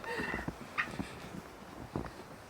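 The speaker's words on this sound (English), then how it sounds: "I come over to give feed to the turkeys and you can hear them, they're celebrating right now." Turkeys on a farm gobbling in short bursty calls, several overlapping gobbles at moderate distance, fairly quiet with no speech.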